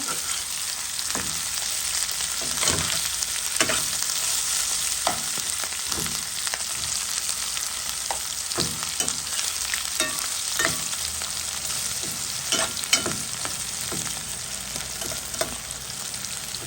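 Red onions fry in a pan under a constant close sizzle, while a utensil scrapes and stirs them in irregular knocks and clicks throughout.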